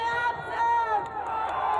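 A dense crowd packed together at a Priyanka Gandhi political rally, heard as a brief, steady wash of murmuring voices and chatter.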